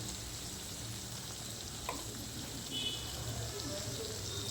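Potatoes and spices frying in a pan after ghee is added, a steady soft sizzle running evenly throughout with a faint brief clink near the middle.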